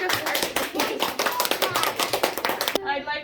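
Applause for a school virtue award winner, with dense hand clapping from a gathered group that runs steadily under voices, then cuts off abruptly near the end into quieter talk.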